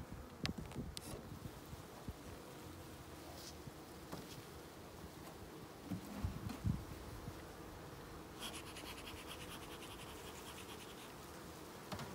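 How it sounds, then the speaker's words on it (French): Honeybees crowding inside a hive being split in early May in Quebec, a faint steady buzzing hum with light scratching and handling noises close by. "Beaucoup d'abeilles à l'intérieur, c'est excellent."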